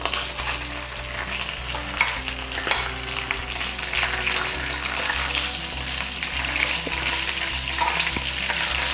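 Bay leaves, garlic and a piece of cinnamon sizzle steadily in hot oil for a masoor dal tadka, a continuous close frying crackle with occasional stirring clinks, no talking.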